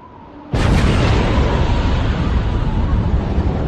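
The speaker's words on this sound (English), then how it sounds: "there was a terrible explosion" A sudden, massive blast bursts out after half a second of quiet, then rolls into a long, roaring wash of noise that stays loud to the end, like a barge exploding and burning on the water.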